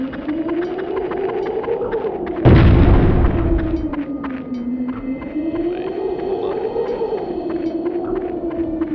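Grenade explosion in Spec Ops: Ranger Elite, a single loud boom bursting out over a steady, wavering drone, then fading over about a second while the drone carries on.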